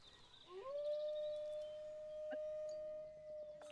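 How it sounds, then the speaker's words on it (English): Arctic wolves howl in a Planet Zoo enclosure, a single long rising howl that settles into a sustained steady tone, clear against a quiet backdrop with a faint second voice. "Our Arctic wolves are having the time of their lives up here. Hi buddies, what are you screaming for?"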